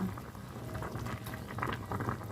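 Almonds boil in water in a covered pot, giving a steady, dense bubbling and rumbling that stays fairly loud and continuous throughout, with no voices.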